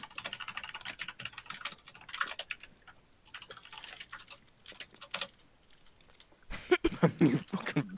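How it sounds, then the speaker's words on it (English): Rapid typing on a computer keyboard, bursts of dense clicking keys separated by short pauses, fairly close, with a louder clattering flurry near the end. "You guys are typing like this."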